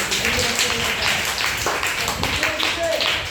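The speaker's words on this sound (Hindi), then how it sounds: "ताली बजाइए" Schoolchildren in a classroom clap together, a dense, steady patter of many small hands with voices talking over it throughout.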